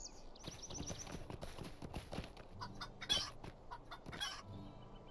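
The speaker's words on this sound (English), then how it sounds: "And the chickens." Chickens cluck in the Lord of the Rings Online video game at Brandy Hall in Buckland, with scattered clucks and footstep-like clip-clop sounds over quiet game ambience.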